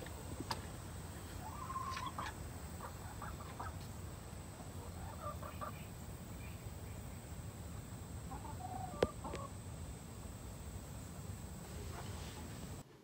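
Small, faint clucks from a chicken come in scattered bursts over a steady low background hum, with a single sharp tap heard partway through.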